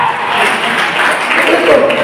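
Church congregation clapping together during a Pentecostal sermon, a dense steady wash of hands filling the room with a faint voice or two mixed in.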